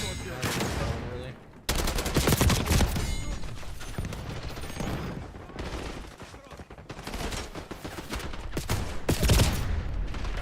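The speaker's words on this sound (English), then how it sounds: "I got a shotgun kill while I was blinded" Shotgun blasts and heavy gunfire in Black Ops 6 on a small map, loud bursts arriving in clusters with brief lulls between, some quieter game sounds underneath.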